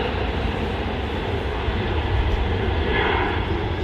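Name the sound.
Virgin Atlantic Airbus A350 jet aircraft at Manchester Airport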